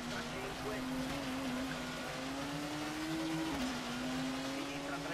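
A rally car engine in the video game WRC 4 drones steadily throughout, its pitch gently rising and dipping, a constant mechanical whine under faint background noise.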